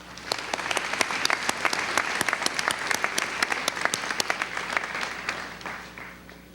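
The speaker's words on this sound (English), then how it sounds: "I hope the class of 2019 will join me in applauding your efforts to get them here to" Graduation ceremony audience bursts into sustained applause, a dense crowd of clapping hands that builds quickly, holds steady and tapers off at the end.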